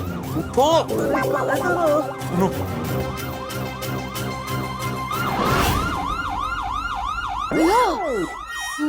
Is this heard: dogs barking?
no